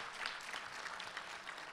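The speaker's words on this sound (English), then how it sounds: "give her a hand clap" An audience applauding at a Rural Caucus gathering: steady, dense clapping with individual claps popping out near the front, continuing evenly throughout.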